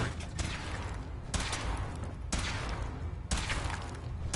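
Test-firing of a weapon in Fallout 4: broadband bursts crack out roughly once a second, four in all, over a constant low rumble, with no voices.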